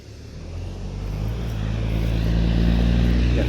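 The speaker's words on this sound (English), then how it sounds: "got a truck coming." A truck approaches along a country road, its low engine rumble swelling steadily from faint to fairly loud over a few seconds with no talking.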